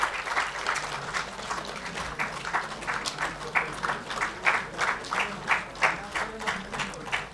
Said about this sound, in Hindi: सब स्टूडेंट के लिए तालियां बजती रहनी चाहिए.